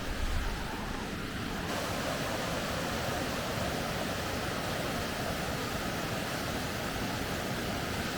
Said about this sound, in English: that is the Stone Mountain Falls